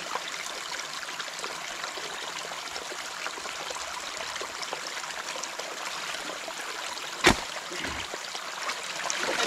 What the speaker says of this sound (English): Y'all hear that water crashing?